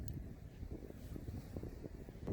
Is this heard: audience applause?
no